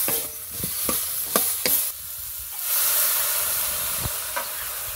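Kakrol frying in a pan with garlic, onion and chili paste, a steady loud sizzle and hiss with occasional scraping stirs and clinks of the spatula, close by and without talking.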